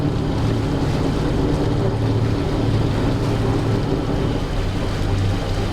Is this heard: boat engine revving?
yes